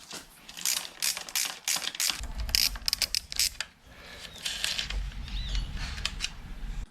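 Ratchet spinning out the bolts of a car seat rail during a sports-seat swap, heard as several quick bursts of close mechanical clicking followed by lower rattling and handling noise, with no voices.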